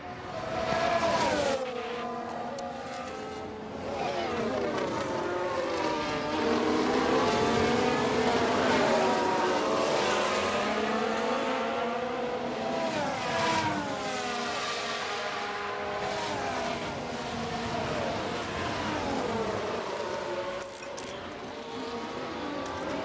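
Several V6 Formula 1 race car engines in F1 Manager 23 scream past in turn, their pitch rising and sliding as the cars accelerate and shift, loud and continuous with no pauses.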